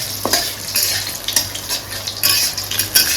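Onions frying in a pan for a Bengali chicken masala curry, a loud close sizzle with repeated scraping stirs and light utensil clinks against the pan.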